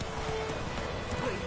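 Roach the horse gallops in The Witcher 3, a steady, fast clip-clop of hooves that runs unbroken and fairly loud over a constant background bed, with a brief whinny-like sound near the end.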